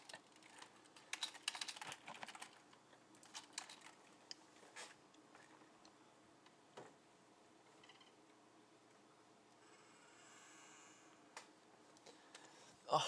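Bursts of quiet keystrokes on a computer keyboard as notes are typed during an online Secret Hitler tournament game, irregular clusters of clicks near the mic with a pause in the middle and brief talk at the end.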